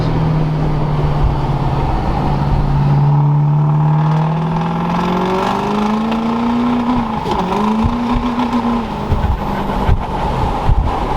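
Duramax diesel pickup truck pulling hard from about 40 mph, engine note climbing steadily and loud with rising pitch, wind roar throughout, heard from inside the cab.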